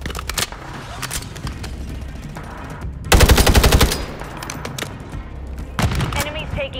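A hostile remote turret in the Call of Duty video game fires scattered shots, then a loud rapid burst of automatic fire near the middle, followed by another shorter burst toward the end.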